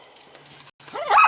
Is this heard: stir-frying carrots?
no